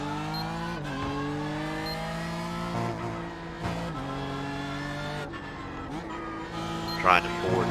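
A Ford GT race car's engine in a NASCAR video game runs at a steady, loud, close drone with shifting pitch as it rounds a corner, a brief tire-squeal chirp near the end, while a person talks over it.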